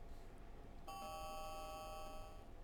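A single chiming doorbell rings in the game steamedhams.exe, a clear sustained electronic tone over a low steady hum, with no talking.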